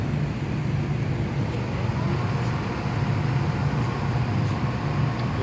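An HB200 balancing machine spinning a part during a four-second run, a steady loud whirring rumble with a low hum and a thin high tone, continuous and unchanging throughout.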